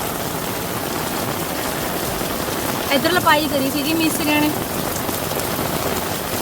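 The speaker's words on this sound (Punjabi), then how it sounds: "ਲੋ ਜੀ ਮੀਂਹ ਬਹੁਤ ਜ਼ਿਆਦਾ ਆ ਗਿਆ" Steady heavy rain hisses across the whole stretch, with a voice speaking briefly over it near the middle.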